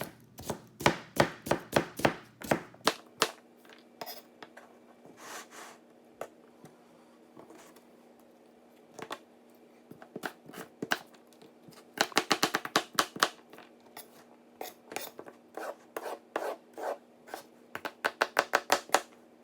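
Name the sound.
Japanese chef knife slicing vegetables for salad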